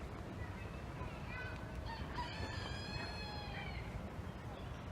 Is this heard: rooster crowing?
yes